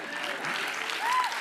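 Audience applause at the 71st Los Angeles Area Emmy Awards: a short, dense burst of crowd clapping heard up close and fairly even throughout.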